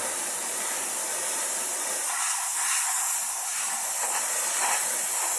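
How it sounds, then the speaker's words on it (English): Compressed air hissing steadily from a two-stage gun as dust is blown off a surface ahead of a thin tack-coat application, a loud continuous broadband rush with slight swells and no talking. "so you can actually use it just to blow off any dust"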